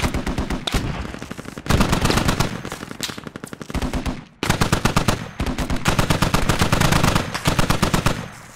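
Loud, sustained automatic gunfire from a Squad military shooter game, long rapid bursts of rifle and machine-gun shots broken by brief pauses, close and dominant with no voices.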